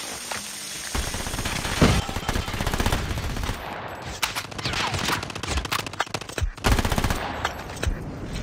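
Rapid shotgun blasts and gunfire fill close-range combat in Call of Duty Mobile on the Shipment map in a Hardpoint match, loud bursts in quick succession with brief gaps.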